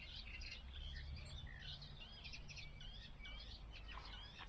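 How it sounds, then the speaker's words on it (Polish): Several small birds chirp and twitter continuously outdoors at a riverside campsite on the Bóbr, at a moderate distance, overlapping calls over a soft background hum. "Ptaszki sobie ćwierkają."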